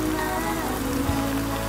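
Rain falls steadily as a continuous, even hiss of drops on a surface, with no distinct individual impacts.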